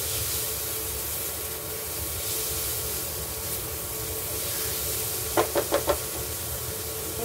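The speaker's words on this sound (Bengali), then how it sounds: "পেঁয়াজগুলো প্রায় ভাজা ভাজা হয়ে গেছে।" Onions and green chili frying in a pan give a steady, low sizzling hiss throughout, with a quick run of four sharp knocks from stirring near the end.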